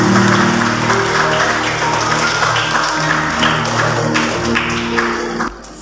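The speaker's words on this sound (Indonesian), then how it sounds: "Berikan tepuk tangan yang sangat meriah bagi Tuhan Yesus." Loud, sustained clapping from a church children's class fills the room, dense and continuous, with a steady hum beneath it and the applause cutting off abruptly at the end.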